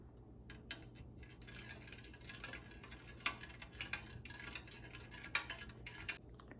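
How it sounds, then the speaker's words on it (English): A spoon stirs sugar water in a glass, giving quiet irregular clinks and taps against the sides over several seconds, close and faint with no voices. "And stir it with a spoon."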